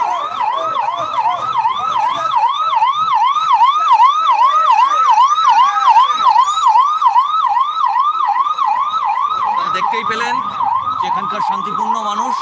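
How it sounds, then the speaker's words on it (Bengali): A loud ambulance siren wails close by in a rapid, repeating up-and-down pattern for the whole stretch, passing through a street protest demanding justice for R G Kar, with faint crowd sound beneath it. "একটি অ্যাম্বুলেন্স আছে সেটার কারণে আমরা একটু সরে যাচ্ছি তাদের রাস্তা"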